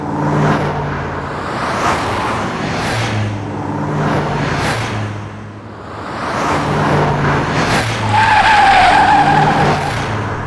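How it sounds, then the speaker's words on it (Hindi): A car speeds past fast with its tires skidding. The loud engine roar surges and fades in waves, and a sharp tire screech comes near the end, with no voices over it. "अरे इतनी तेज गाड़ी लेके कौन जा रहा है?"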